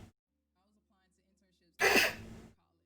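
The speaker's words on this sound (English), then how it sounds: "Oh, I'm gonna sneeze now." A single loud, breathy sneeze bursts out abruptly after near silence while someone cooks Cajun chicken penne in a home kitchen, lasting well under a second before fading.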